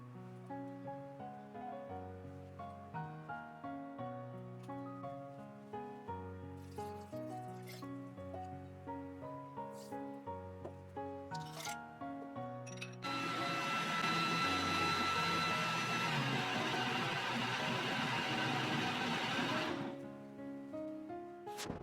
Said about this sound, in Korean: 남은 콩도 똑같이 갈아줍니다